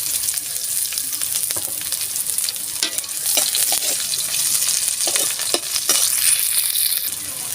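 Garlic, ginger and onion sizzling in a pan of hot oil, with a steady close crackle and occasional clinks and scrapes of stirring, no talking.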